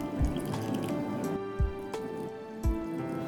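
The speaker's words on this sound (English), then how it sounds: "Keep adding water slowly" Water trickling and dripping slowly into a bowl of thick pancake batter seasoned with coriander, a few distinct drips over a low steady pouring sound, close and fairly quiet with no talking.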